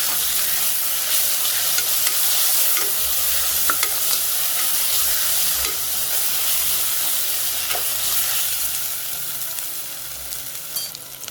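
Ginger garlic paste frying with onions in a pan, a loud continuous sizzle with occasional scraping stirs, close up and steady throughout, no voices.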